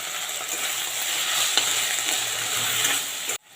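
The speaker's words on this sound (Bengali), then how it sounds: "আর হালকা করে ভেজে নেব।" Potato pieces with capsicum frying in a pan with tomato, soy and chilli sauces give a steady close sizzle and hiss, with faint stirring scrapes, until the sound cuts off abruptly near the end.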